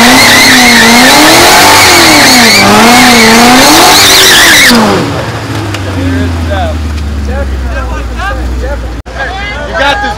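Drag racing cars at a night race event in Mexico roar loudly with wavering engine revs, then pull away as the engine note falls and fades, leaving crowd noise and scattered voices.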